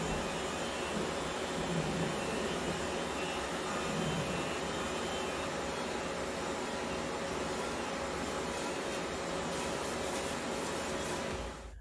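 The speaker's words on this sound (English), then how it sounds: "Now I'm etch priming the wheel well in the driver's side" Etch primer sprays steadily onto the driver's side wheel well of a car during DIY bodywork, a loud continuous broadband hiss that holds evenly for the whole stretch with no talking.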